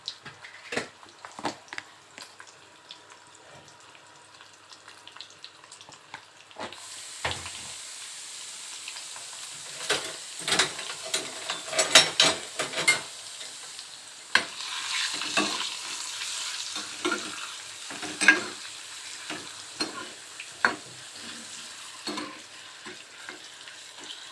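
Eggs fry in a pan with chilli powder, salt and coriander powder, starting as quiet scattered spatters and scrapes, then swelling into a louder, fuller sizzle with busy stirring clatters.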